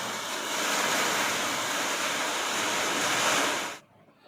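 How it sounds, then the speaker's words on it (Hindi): Heavy rain pouring down outdoors, a steady dense hiss of downpour at even loudness that cuts off abruptly near the end, with no voices. "सच में बहुत पानी बरस रहा था कल भी। सुनिए आप लोग।"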